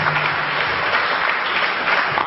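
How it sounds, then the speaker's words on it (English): An audience at a lecture on African history claps for the projectionist and security staff, producing a full, continuous round of applause that stays loud and even from start to finish. "Give these brothers a round of applause"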